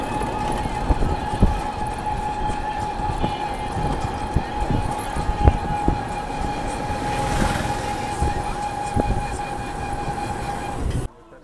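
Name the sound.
train passing near India Bangladesh border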